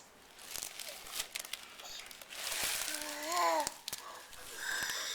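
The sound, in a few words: package being opened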